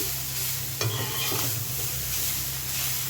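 Onions stirred and frying in a pan for a Bengali bitter gourd fry, a steady close sizzle with a brief scrape of the spoon against the pan partway through.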